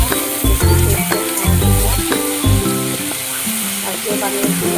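A spice paste of green chili and ground spices sizzles loudly in a hot pan for a fish curry, a dense steady hiss broken by repeated clunky scrapes of stirring.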